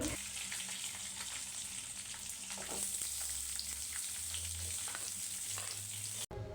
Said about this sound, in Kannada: ಉದ್ದಗೆ ಕಟ್ ಮಾಡಿಟ್ಕೊಂಡಿರುವಂಥ ಈರುಳ್ಳಿನ ಹಾಕ್ಕೊಳ್ತಾ ಇದ್ದೀನಿ